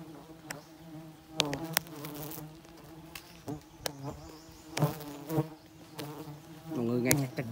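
Bees guarding their hive during a honey harvest buzz loudly and continuously close by, with individual insects whining past and several sharp taps and knocks standing out against the swarm.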